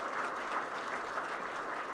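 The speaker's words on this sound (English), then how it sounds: "let's give our wonderful people a big round of applause" A crowd applauds at the 16th Polestar Awards ceremony, steady and fairly dense clapping from many hands throughout, moderately loud with no voices over it.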